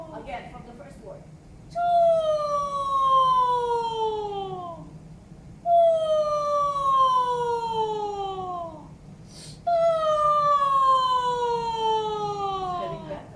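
A voice imitates an ambulance siren in three long, falling wails, each sliding downward and then breaking off, loud and close against a low background hum.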